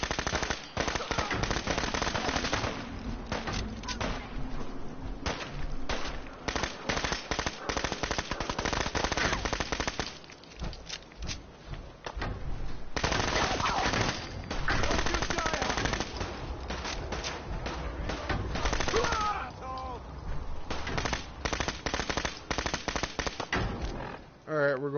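A gun in the video game Fallout 4 fires long, rapid automatic bursts, loud and close, with a few short pauses and a voice faintly talking underneath.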